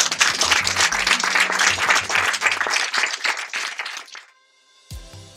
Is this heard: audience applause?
yes